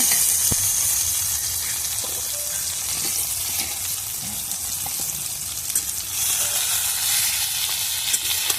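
Brinjal fries in oil in a pan, a continuous close sizzle with occasional small clinks, no voices.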